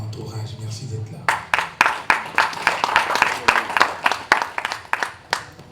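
A press conference audience claps in a run of sharp, fairly close bursts that rise and fall for several seconds, following a short stretch of quiet background murmur.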